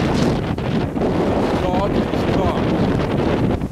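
Strong wind on a rainy day buffets the microphone as a loud, continuous rushing roar that fills the whole stretch, with no speech heard.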